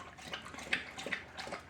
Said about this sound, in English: fill that water dish